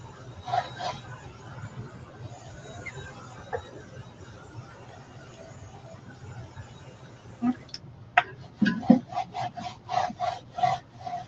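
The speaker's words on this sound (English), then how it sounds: "now I'm going to sand it a little bit" A wooden mason jar door hanger with chalk-stenciled paint being sanded by hand: steady, soft rubbing grit for several seconds, then quicker, louder back-and-forth strokes near the end, close by.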